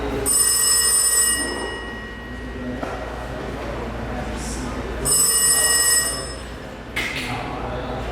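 A telephone bell rings in two loud bursts, each lasting about a second or more, during a theatre rehearsal, with room ambience and brief talk between the rings.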